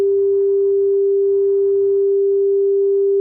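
A pure sine-wave test tone holds one steady pitch, loud and unbroken, for about three seconds before cutting off abruptly.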